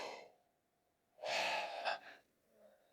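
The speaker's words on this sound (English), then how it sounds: "Let's force yourself to yawn just right now." A person forcing a deliberate yawn during a breathwork exercise: one long, close, breathy inhalation swelling and fading, alone and with no talk.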